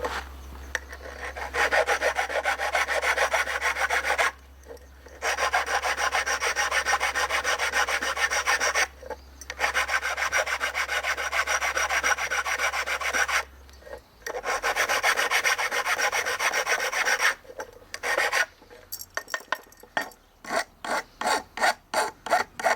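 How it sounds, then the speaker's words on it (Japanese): Hand file rasping burrs from the freshly cut end of an aluminum pipe, steady back-and-forth strokes in long bursts separated by short pauses, ending in a quick series of shorter strokes; close and loud, with a low hum underneath and no speech. "切った後はバリが出ていますんで、これも少しヤスリで落としていきたいと思います"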